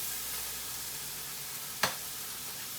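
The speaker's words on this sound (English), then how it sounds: "So we're frying it up. You got to get it nice and crispy." Oil sizzles steadily and softly close up as squash flowers fry, with a single brief louder crackle or pop partway through; no one speaks.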